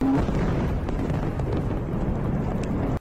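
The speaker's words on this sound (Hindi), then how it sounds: "विस्फोटक से भरा पाइप जैसे ही टारगेट पर गिरा, वहां एक जोरदार धमाका हुआ" An explosive-filled pipe carried by a rocket strikes a steel plant and detonates, producing a loud, heavy, rumbling roar. The blast noise stays sustained for about three seconds, then cuts off abruptly.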